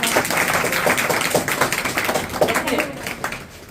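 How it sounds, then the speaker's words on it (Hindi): A class clapping for a student, a burst of scattered, uneven hand claps from a group of pupils running for a few seconds with a voice speaking over them. "ताली मारिए इसके नाम"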